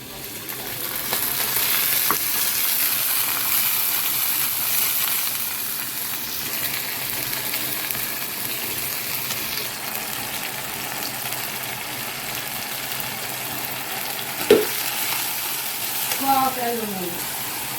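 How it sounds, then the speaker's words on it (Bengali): Fish bhuna cooking in a pan in a home kitchen sizzles steadily near the listener, with a sharp clank around the middle and brief handling noises near the end. "এদিক দিয়ে যে মাছ ভুনা বসাই দিছি।"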